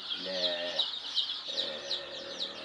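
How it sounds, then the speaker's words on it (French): Young chicks in a cage at a poultry farm peep in rapid, high repeated cheeps, close and lively, with a faint lower voice briefly underneath. "c'est déjà les poussins comme ça, qui sont dans leur cage"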